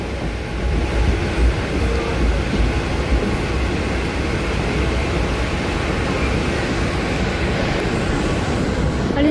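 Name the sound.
local train arriving at Nerul station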